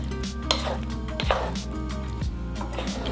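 Strawberry filling being stirred in a pot right after a cornstarch mixture goes in, with utensil scrapes and clinks against the pot repeating over a continuous cooking background, close and without speech.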